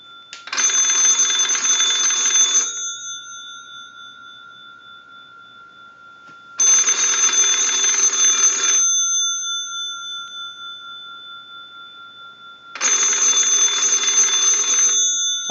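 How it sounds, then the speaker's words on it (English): Original bells on an old Kellogg wood wall telephone ring in three loud bursts of about two seconds each, with fading resonance and quiet pauses between rings. "send a ring cycle like you were getting a call"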